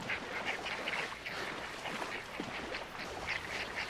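A flock of ducks in the video game Gunpowder and Regret squawks continuously. Overlapping quacks come in irregular bursts against a steady ambient hiss, with no voices.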